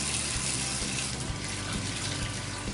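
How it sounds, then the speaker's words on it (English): Tap water runs steadily over salted mackerel in a kitchen sink, a continuous close splashing hiss that stays loud and even throughout, with no talking. "just run the water over it like this"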